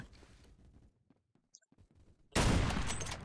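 Burst of rapid gunfire from Phantom Forces, a first-person shooter game, erupting loud and dense after a quiet stretch of faint game sounds, lasting about a second to the end.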